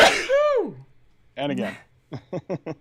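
A single sharp sneeze bursts out right at the start during a scripture study session, followed by brief speech and a few short clipped vocal sounds.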